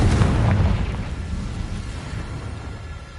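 Confringo fire spell exploding in the video game Hogwarts Legacy, a single deep boom that rumbles and fades over about three seconds.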